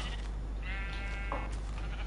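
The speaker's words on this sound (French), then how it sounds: "Et voilà, un mouton noir." Black sheep in Minecraft giving a single short, wavering bleat, close and clear, over a constant low hum, with no talking.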